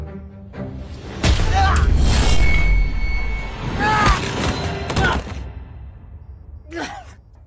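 Several loud gunshots crack out in an action scene from the Chinese drama Great Expectation: Twin Dragons, spread over a few seconds amid shouting and heavy background noise.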